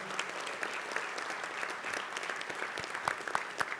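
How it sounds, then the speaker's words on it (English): Audience applause at a ministers' forum of the ROMA conference in 2020, given for the moderator. Steady, dense clapping from a seated crowd runs for about four seconds at a moderate level, with a few sharper claps standing out near the end. "let's give a big round of applause for Nigel Belchamber for managing the forum"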